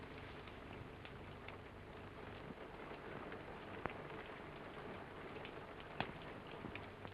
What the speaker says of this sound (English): It's only the rain.